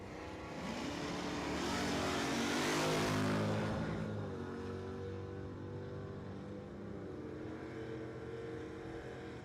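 A 1969 Chevy Chevelle and an AMC car launch side by side at a drag strip, a loud engine roar swelling over the first few seconds and then settling into a steady, fading drone.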